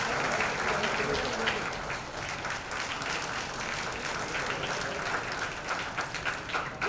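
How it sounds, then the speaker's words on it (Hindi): Enthusiastic audience applause at a charity fundraiser show, a dense, sustained roar of many hands clapping, with cheering voices and crowd noise mixed in throughout. "जीतू जी के लिए एक बार जोरदार तालियां हो जाए।"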